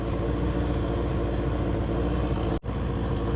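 A 1978 Kawasaki KZ650 motorcycle engine runs steadily and fairly loud, a continuous even drone that cuts out for an instant near the end before resuming.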